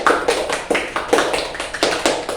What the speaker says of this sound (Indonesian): Kita berikan tepuk tangan untuk Tuhan kita Yesus Kristus.